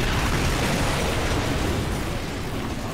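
A weapon-fire explosion in Earth Defense Force 6, a loud, sustained rumbling blast that roars steadily for a few seconds with no clear break.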